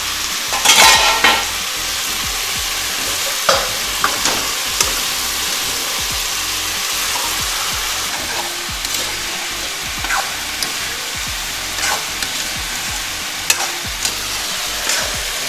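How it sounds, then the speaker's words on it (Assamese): Local chicken meat fries over high heat in a pan, a constant loud sizzle broken by repeated scraping and clanking of a spatula stirring the pieces. "ভাজি আছোঁ আৰু অলপ টাইম লাগিব"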